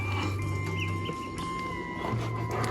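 Khaki Campbell ducklings peep and cheep in a steady stream on a homestead, close and fairly loud over a constant low hum, with no talking.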